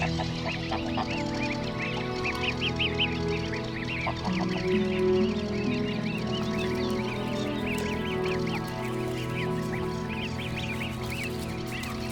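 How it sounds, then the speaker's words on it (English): Geese and goslings coming ashore in a Dutch wild grassland, a busy chorus of honks and soft peeping calls layered over a steady outdoor background, close and continuous. "The goslings are making landfall en masse."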